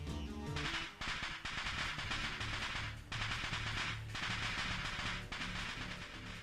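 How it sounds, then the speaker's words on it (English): Dust explosion in the visual novel Steins;Gate, rendered as rapid firecracker-like bursts of crackling pops in dense volleys, loud and sustained, broken by a few brief gaps. "a sound like firecrackers resounds from the other side of the door. A dust explosion."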